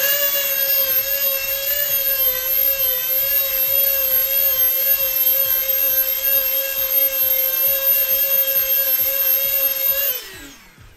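Power tool cutting into PVC in a continuous loud whine with steady harmonics for about ten seconds, throwing off plastic dust, then winding down at the end.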